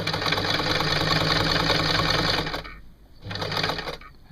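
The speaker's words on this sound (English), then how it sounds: "I'm just running along the same seam now with a finer setting on the sewing machine" A sewing machine runs a finer stitch along a T-shirt seam, a steady mechanical whir for about two and a half seconds, a short pause, then another burst of stitching.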